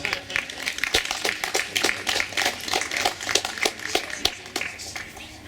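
An audience at an interfaith sharing festival applauds Father Jean-Luc Tremblay of Sainte-Anne-de-Beaupré with a steady run of moderately loud, uneven hand claps. Some claps stand out sharply, and faint voices can be heard underneath.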